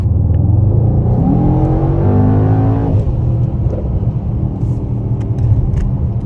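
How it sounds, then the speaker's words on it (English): Mercedes-AMG GT63S on a late-night drive with a loud, continuous exhaust rumble that drops in pitch as it decelerates, then crackles with scattered small pops and burbles, heard from inside the car. "The pops and burbles, it's just every time."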